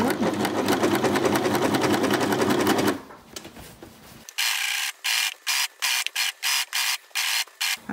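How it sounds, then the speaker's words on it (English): A sewing machine stitches stretchy activewear fabric for a sports bra. It runs in a steady dense whir for a few seconds, pauses, then starts again in short regular bursts of stitching. "So I'm just going to continue sewing this"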